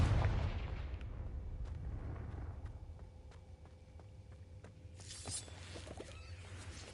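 A Confringo spell explosion in Hogwarts Legacy opens with a loud burst that fades into a rumbling tail, followed by scattered faint clicks and a small later crackle.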